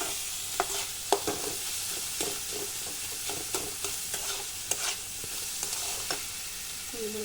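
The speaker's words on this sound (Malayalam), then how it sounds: "അത് കുറച്ച് ഇട്ട് കൊടുക്കണം. നന്നായിട്ടൊന്ന് ഇളക്കണം." A spatula stirs scrambled egg through fried rice in a hot pan, scraping and tapping in an irregular rhythm over a low, continuous sizzle.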